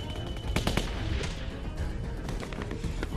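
AK rifle fire in The Walking Dead Season 2 video game, sharp repeated shots crackling in quick bursts over a loud rumbling background, with no talking.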